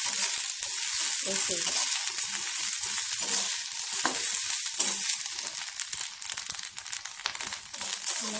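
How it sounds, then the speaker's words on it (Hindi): Dried bamboo shoot (hendua), added to a pan after green chillies for an Odisha tribal chutney, fries with a dense, loud sizzle and crackle plus occasional stirring rustles; a voice briefly speaks partway through. "हमारा बैम्बू शूट फ्राई हो गया है"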